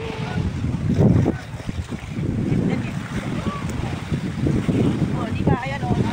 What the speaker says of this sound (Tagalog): Laki ng alon. At ang lakas ng hampas.